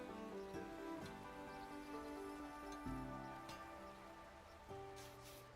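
Steady rain pattering in a video game, a continuous soft hiss of drops on surfaces running under a layer of sustained tonal game music, with no talking.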